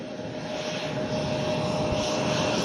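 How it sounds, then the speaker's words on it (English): A Delta Embraer 175 jet airliner approaching to land roars in a loud, steady broadband rumble with a whining engine tone, sustained and fairly near throughout. "And then we have a Delta Embraer 175 landing."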